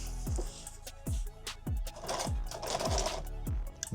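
A sewing machine stitches a pistol magazine pack in short bursts, each run of rapid needle thumps starting and stopping about every half second, loud and close, with no voices.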